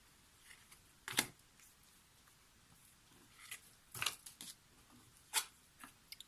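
Tarot cards being shuffled and drawn for a reading, heard as a few brief, faint crisp snaps and rustles spaced apart over a quiet background.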